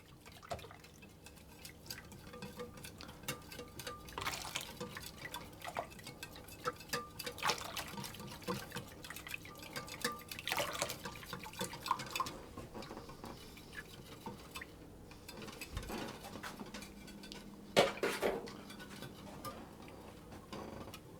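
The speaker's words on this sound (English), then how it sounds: "put it into my egg mixture and whisk it around. This is actually to temper the eggs." Hot mixture is whisked into egg mixture in a bowl to temper the eggs for Greek ekmek kataifi, giving a steady, fairly faint ticking and sloshing of the whisk against the bowl that runs on for about twenty seconds with no talk.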